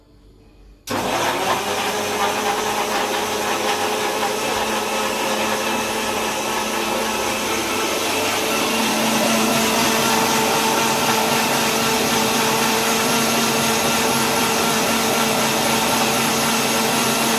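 A kitchen mixer grinder blending ripe muskmelon with milk switches on abruptly after a moment of quiet, then whirs at a loud, steady motor pitch that settles slightly deeper as the fruit purées, with no speech.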